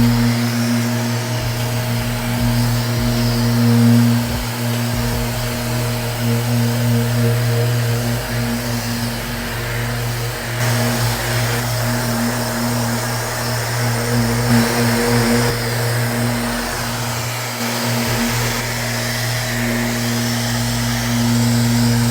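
A Mirka orbital sander sanding primer whirs steadily and loudly for the whole stretch, a constant droning hum with slight variations as it moves across the surface.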